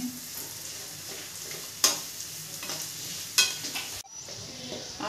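Carrots, beans and onion stir-fry over a high flame for a masala pasta, a constant sizzle broken by scraping stirs and two sharp utensil hits, with a brief drop near the end.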